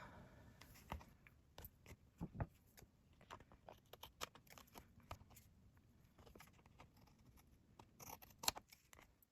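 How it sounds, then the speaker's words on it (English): Scissors trim the edges of a collage art postcard with a run of quiet, irregular snips and paper rustles, close and faint, with one sharper cut near the end. "Now I'll give that a trim."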